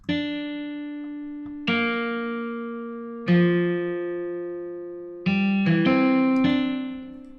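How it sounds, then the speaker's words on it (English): Acoustic guitar plugin chords strummed one at a time with effects, each ringing out and slowly decaying before the next; the last few come closer together. "The guitar sounds like this."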